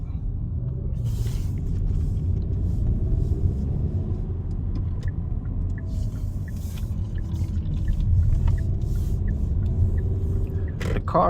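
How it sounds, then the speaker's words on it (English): A 2020 Kia Optima SXL sedan rolls through a U-turn on a city street, its engine and tire noise forming a low, steady rumble that swells slightly partway through, with faint traffic around and no talk. "I'm gonna try a U-turn right here."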